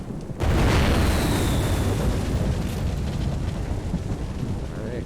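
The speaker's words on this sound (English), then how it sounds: "I added sound effects to all the fireworks now as well, so those all work." Fireworks effects in a game project: a loud, sustained roar of booming, crackling bursts begins abruptly and continues without a break, with a faint high whistle early on.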